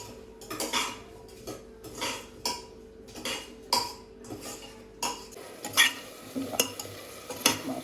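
A spoon scrapes and clinks against a pan as cumin powder is stirred into frying food. The strokes are close and come in a steady, repeated rhythm, with a faint sizzle between them and no talking.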